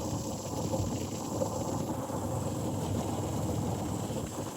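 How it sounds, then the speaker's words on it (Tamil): Steady light drizzle falling outdoors in Jaffna during a storm and flooding, a continuous soft hiss of fine rain over a low rumbling background, constant in level with no voices. "மழையானா தூறிக்கொண்டே இருக்குது."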